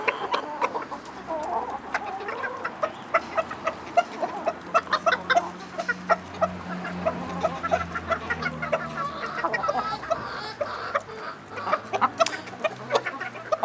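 Blue laced Andalusian chickens, rooster among them, cluck in a steady scatter of short calls from several birds close by, with a low hum underneath.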